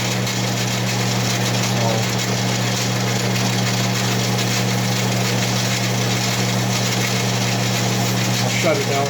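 A Stihl MS461R chainsaw with a modified piston and combustion chamber runs steadily, a loud continuous engine drone with no breaks.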